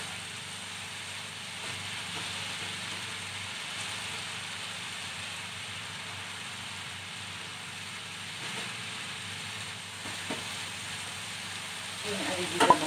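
Fu yung hai filling sizzles and fries in a pan while it is stirred, a soft, steady hiss with faint scraping and a few louder clatters near the end.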